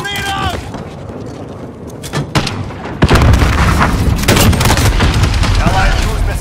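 In a Modern Warfare match, scattered gunshots lead into a heavy grenade explosion, followed by sustained rumbling and continued gunfire, with voices calling out in the game.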